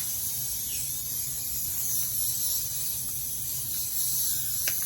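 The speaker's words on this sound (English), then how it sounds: "So basically, I'm just spraying this thing up" A spray bottle mists a tufted rug with a continuous close hiss lasting several seconds, plus a faint click near the end.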